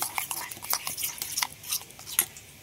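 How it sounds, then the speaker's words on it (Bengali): A spoon stirs yogurt mixed with cumin and chili powder in a bowl, giving soft, quick, irregular clinks and scrapes, close up and faint. "সবগুলো একটু ভালো করে এইভাবে মিশিয়ে নেব"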